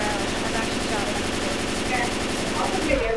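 Rapid M16 rifle fire in the Left 4 Dead 2 video game, a dense continuous rattle of shots held throughout at a steady, fairly loud level.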